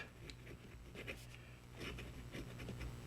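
An extra fine nib of a titanium pocket fountain pen writing on paper, a faint, close, scratchy rustle of strokes running continuously, with no speech.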